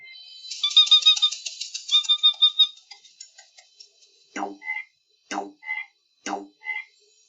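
A frog croaks in a run of short repeated calls, then gives several louder, spaced croaks, heard up close with no talking.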